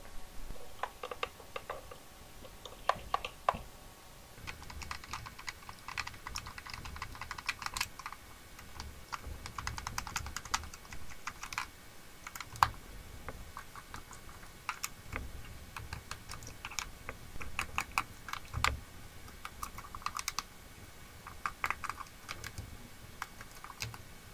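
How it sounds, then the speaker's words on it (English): Screws coming out of a Nintendo 64 controller make small, close clicks, ticks and scrapes of a screwdriver on plastic, irregular and fairly quiet, with no talking. "First things first, remove the screws."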